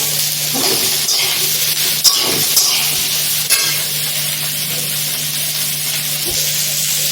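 Onions frying with ground spices for sabu khichdi, a tapioca pearl dish, give a steady close sizzle through the whole stretch, with a few stirring scrapes and light clinks along the way and no talk.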